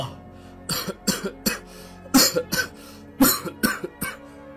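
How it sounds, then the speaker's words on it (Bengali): A sick elderly father lying in bed coughs in a rapid series of harsh, hacking bursts with brief gaps and a throat-clearing quality. The coughing is loud and close, with no other voices. "মনে হচ্ছে তোমার কাশিটা আগের থেকে বেড়ে গেছে বাবা"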